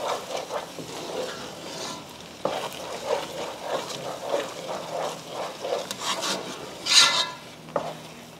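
A stew with negro peppers and shrimp powder being stirred in a pot for kwenkwen, close scraping and rubbing strokes repeating steadily over a faint bubbling sizzle, with a sharper clatter near the end.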